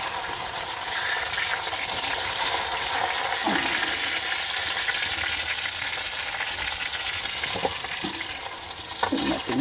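Continuous loud sizzling of chili peppers frying in a pan with too little oil, a steady dense hiss with occasional pops and stirring clinks.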